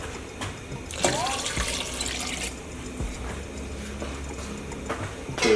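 Tap water runs steadily into a cooking pot on a stovetop for boiling vegetables, a continuous splashing rush close to the microphone that swells brighter around the middle of the pour.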